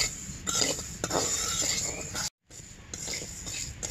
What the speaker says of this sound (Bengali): প্রথমে আমি যে মুগের ডাল কটা ভেজে নিব নিরামিষে দেওয়ার জন্য